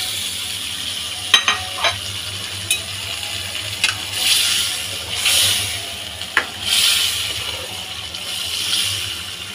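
Hilsa fish pieces, lightly pre-fried, being stirred and cooked down in a pan for a hilsa and pumpkin-leaf dish: a soft steady sizzle with occasional spatula scrapes and clinks.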